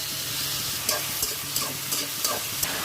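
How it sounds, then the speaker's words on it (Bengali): Chicken pieces frying with softened onion and green chilli in hot oil, a steady broadband sizzle with periodic scraping stir strokes roughly every half second, close and alone. "চিকেনের সাথে একসাথে ভাজা ভাজা করব।"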